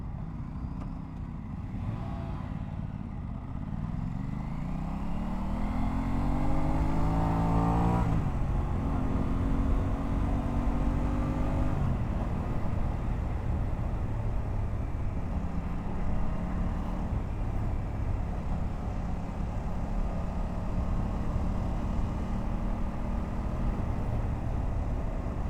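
An Aprilia RS 660 sport motorcycle engine pulls hard through its revs, pitch climbing smoothly through the gears with a brief shift break, then holding a steady loud drone close by.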